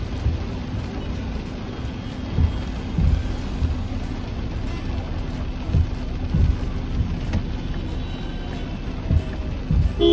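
Steady heavy rain pours down continuously in Chennai, with low rumbling underneath and no voices.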